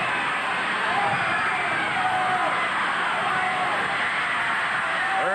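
Wrestling crowd at a cage match roaring and cheering in a steady, dense wall of noise from start to finish, with no clear single voices standing out.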